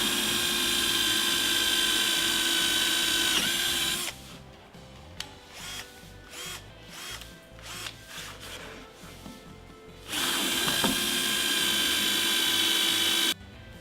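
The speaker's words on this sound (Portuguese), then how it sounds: "eu vou fazer 2 furos. Usar uma broca aqui de uns 10 milímetros mais ou menos" Power drill with a 10 mm bit boring two holes in a workshop, a steady loud whine for a few seconds, a stretch of clicking and handling, then a second steady run.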